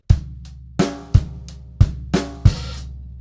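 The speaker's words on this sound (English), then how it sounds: "so if you play the same groove that we played in bar 9 with the open hi-hat on the end of 4, it sounds like this" A drum groove with an open hi-hat on the and of four: sharp kick and snare hits in a steady pattern with a sizzling open hat ringing out, close and solo, no talk.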